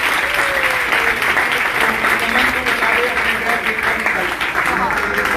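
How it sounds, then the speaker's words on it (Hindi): An audience claps loudly and continuously for several seconds in a dense, even wash of applause at a congratulatory gathering. "चलो जोरदार ताली बजाओ इनके लिए।"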